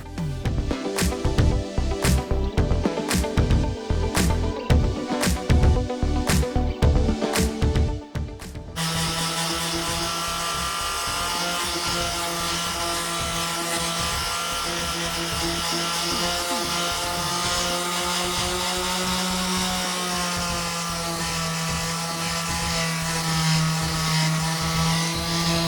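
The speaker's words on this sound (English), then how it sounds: "Again, I'm starting with that 80 grit sandpaper on the top of the dresser." Sanding an old Dixie dresser top with 80-grit sandpaper: about eight seconds of rhythmic scraping strokes, then a loud, steady, machine-like whir with a humming tone that runs to the end, with no talk.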